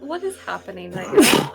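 A sharp, noisy sneeze bursts out at the end, just after a voice speaks briefly.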